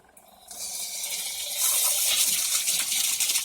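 Water gushes into a twin tub washing machine as it is rinsed out, a steady hissing spray that swells louder after a quiet start and continues close by.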